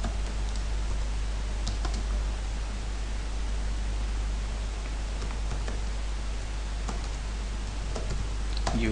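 Keys clack on a computer keyboard as data for a QR code label is typed, light irregular taps scattered over a constant loud hiss and low hum, no voices.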